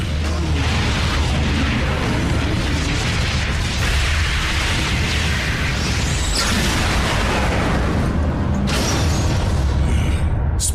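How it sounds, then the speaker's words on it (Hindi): An explosion on the space bridge in the Transformers Prime cartoon: a loud, sustained roaring blast with rumbling, crackling debris and mechanical creaks that fills the whole stretch without pause. "स्पेस ब्रिज पर हुआ धमाका"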